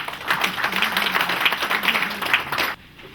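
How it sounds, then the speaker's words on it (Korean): An audience gives a steady, dense round of applause to welcome a lecturer at an education talk, the clapping sustained and fairly close before cutting off sharply near the end. "좋은 강의 경청해 주시고 박수로 환영해 주십시오."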